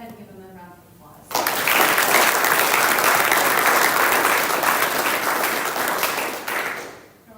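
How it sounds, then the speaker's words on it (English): A retirement ceremony audience breaks into loud, sustained applause that starts abruptly, holds steady for about five seconds, then tapers off, with a brief murmur of voices beforehand. "Let's go ahead and give them a round of applause."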